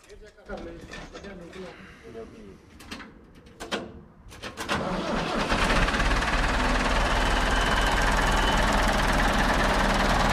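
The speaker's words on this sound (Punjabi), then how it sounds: "ਤੇ ਹੁਣ ਕਰੀਏ ਇਹਨੂੰ ਇੱਕ ਵਾਰ ਸਟਾਰਟ" A Ford 3000 tractor engine cranks and catches after a few knocks and thumps amid talking, then settles into a loud, steady diesel running that fills the second half close by.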